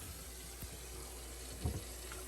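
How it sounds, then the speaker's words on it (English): Kitchen sink faucet running during a home inspection in a Steamboat Springs, Colorado house, a steady faint rush of water with a couple of soft low bumps, no talking. "it's running hot and cold water and turning on all the fixtures"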